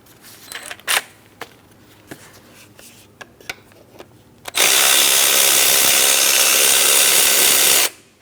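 A power tool, likely an impact gun, removes an 18mm mounting bolt on a 2003-2007 Cadillac CTS 3.6L V6 engine. A few clicks and taps give way to a loud continuous whir lasting about three seconds.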